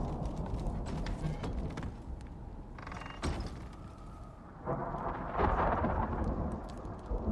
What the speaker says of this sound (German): Ich bin ein bisschen draußen beim Sturm